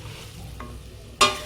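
Cut raw mango is stirred into oil for an instant mango pickle, a soft scraping with faint sizzle, ending in one sharp close clink of the spoon against the pan.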